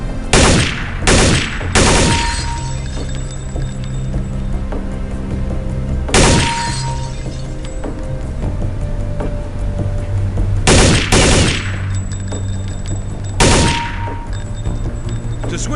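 Short controlled bursts of gunfire from a weapon on a Counter-Strike Condition Zero training range, several loud rapid volleys spaced a few seconds apart with a steady background hum between them.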